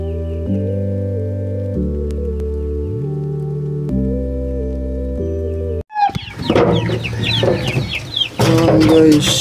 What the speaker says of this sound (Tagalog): Papasilip ko lang ulit sa inyo yung ating mga alagang sisiw